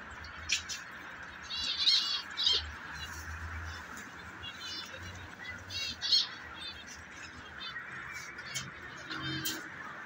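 Pet birds at home squawking and chirping, with repeated close, fairly loud calls in bursts over a steady room hum.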